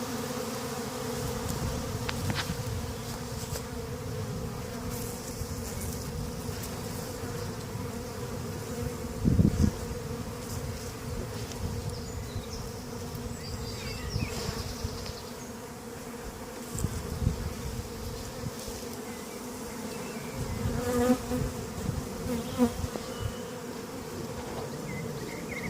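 Honey bees buzzing steadily around an open beehive during spring cleaning, a dense continuous drone with occasional closer passes, no talk.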